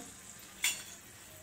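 Karanji frying in oil over a low flame, a soft steady sizzle with one brief brighter crackle partway through, close and quiet with no talking.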